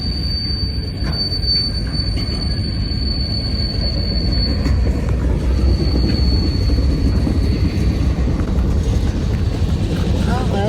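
A CSX slug locomotive moves along the tracks with a loud, steady rolling rumble and a thin, high wheel squeal held above it, close by and continuous.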